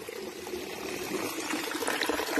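Water trickling and splashing at Aphrodite's Baths in Cyprus, a steady close gurgling flow with no talking.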